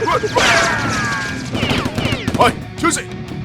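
Toy Nerf blasters fire in rapid bursts during a staged Nerf war against a boss and guards, a busy clatter of shots with speech-like voices mixed in.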